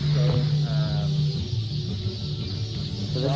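Many chickens at a hatchery cluck and call together in a dense, continuous flock chorus, close by, with a steady hum behind them.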